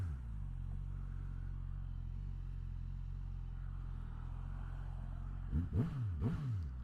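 Suzuki GSX-S1000GX Plus motorcycle (2024) with quick shifter, engine droning steadily at cruise before two sharp revving pulls near the end, close and loud with rising and falling pitch.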